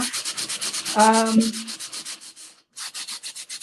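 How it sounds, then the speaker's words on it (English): Rhythmic back-and-forth sanding of a painted piece of furniture, steady rasping strokes close up, briefly pausing before resuming, with a short tonal squeak partway through. "I'm going to sand a little bit more."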